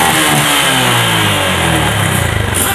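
A Yamaha Jupiter MX motorcycle engine runs loud and close, its pitch rising steadily as it revs up from a low idle over a few seconds, with no talk.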